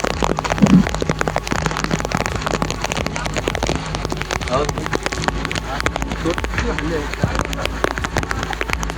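Heavy monsoon rain at Girnar in Junagadh pours down steadily, a dense pattering on surfaces close by with a continuous rushing background, and voices talking underneath it.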